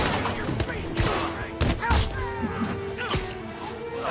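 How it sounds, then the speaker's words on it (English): Grenades, bombs and concussive blasts go off in the Marvel's Spider-Man video game, a rapid series of loud thuds, crashes and sharp bursts layered over each other among busy combat effects. "And grenades. And then the bombs. And then concussive blasts."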